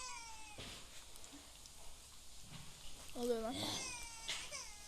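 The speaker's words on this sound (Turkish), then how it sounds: "Kedi kedi." A cat meows a couple of times, faint and wavering, amid background chatter and room noise.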